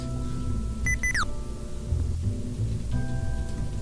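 Computer beeps set off by Sticky Keys while playing Kerbal Space Program, a quick rising run of short electronic tones followed later by a single steady tone, over a low background hum.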